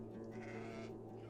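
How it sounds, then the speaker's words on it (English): A flock of sheep bleats in a field in a biblical drama scene, with dense, continuous overlapping cries filling the space and voices mixed in. "Get your sheep out of my field!"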